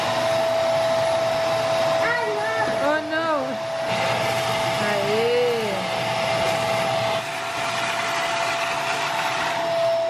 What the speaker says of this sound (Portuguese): Agora tem que aspirar tudo.